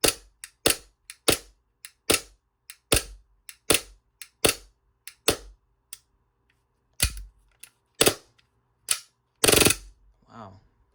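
Sharp, close pops from a Lancer Tactical airsoft gun firing semi-auto on green gas: about twenty snappy shots in a quick, slightly uneven rhythm, a brief pause, then a few more shots.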